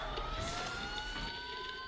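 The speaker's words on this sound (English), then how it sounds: "Sirens." Police sirens from the video game Batman: Arkham Asylum wail steadily in a short burst, several overlapping tones sustained and fairly loud over a dense background rumble, with no speech.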